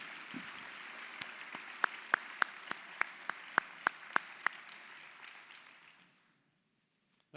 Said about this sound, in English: How about one more round of applause for all of our winners?